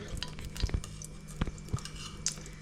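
Ghee in a pan for making rava laddu sweets, stirred with a spoon: a few soft, sparse clinks and scrapes against the pan over a quiet background, no talking.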